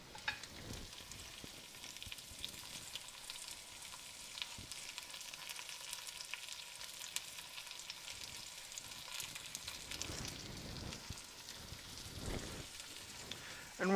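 Beef short rib searing in a pan, a faint, steady sizzle and crackle of frying meat with occasional louder pops and stirring sounds, heard alone without talk.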